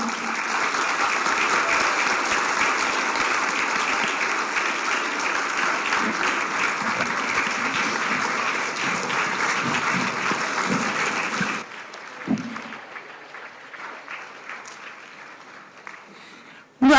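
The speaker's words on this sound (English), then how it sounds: "Big round of applause." An audience gives a big round of applause at a youth programme event, dense steady clapping for about twelve seconds before it fades into scattered claps and low room noise.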